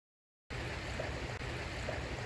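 Creek water flows at Kennedy Creek in early February, a steady, soft broadband rush of running stream water that starts abruptly after a brief silence and continues evenly, with no talking.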